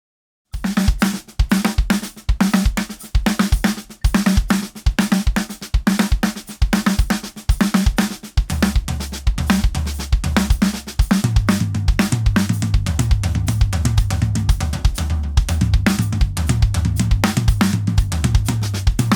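Drum kit practice in groups of five, played up close: sharp snare and tom strokes form repeating clustered phrases with short gaps, then grow into a dense, continuous improvised pattern with heavy kick and cymbal wash.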